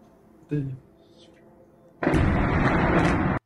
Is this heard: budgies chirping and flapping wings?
no